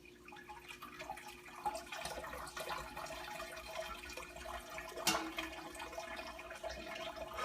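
Water running through a pot of grains while sparging homebrew wort: a continuous close trickle and splash of liquid, moderately quiet, with no talking.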